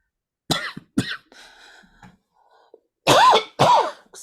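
Several sharp coughs and throat clearing from a person drinking tea with honey, in short bursts with pauses between, the last two coughs loud and close.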